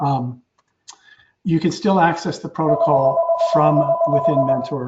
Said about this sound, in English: Sorry for the phone there in the background.